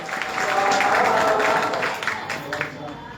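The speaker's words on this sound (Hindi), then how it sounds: "जोरदार तालियों से उनका भी इस्तकबाल कीजिए।" An audience applauds to welcome a guest at a ceremony honouring writing on Mahatma Gandhi's life, a short burst of clapping that swells and fades, heard beneath a speaker's voice.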